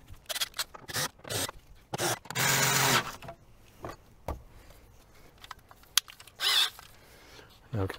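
Plastic body panels being pressed back onto a Ford C-Max, with irregular creaks, scrapes and rubbing bursts, one longer grinding scrape and a few sharp snaps, close and alone without talk.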